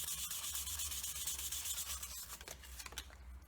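Close, steady rubbing of abrasive paper along a reed waggler float to strip its coating, a continuous dry scratchy friction with slight rhythmic variation toward the end.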